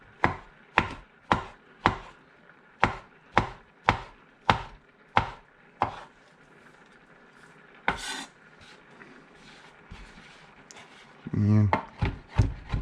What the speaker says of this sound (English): continue chopping this up a little bit.